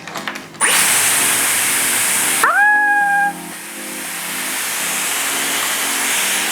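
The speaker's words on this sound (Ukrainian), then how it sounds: "Закрутило, і тут є кнопочка для охолодження, тобто, щоб потік був повітря не теплий, гарячий, а холодний." A Dyson hair styler blows air while curling a strand of hair, a steady loud whoosh that begins after a brief rustle, then a tonal whine rises and fades as the airflow settles into a softer hiss.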